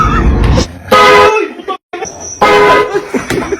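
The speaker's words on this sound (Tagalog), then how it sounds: "yung backpack prank, yung may busina sa likod ng bag ko" A horn hidden in the back of a backpack for a prank blares in two loud honking bursts, with laughter and voices around them.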